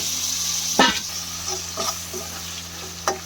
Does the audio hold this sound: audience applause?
no